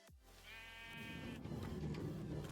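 A sheep in the video game Minecraft gives one wavering bleat at low volume, followed by soft shuffling game noise.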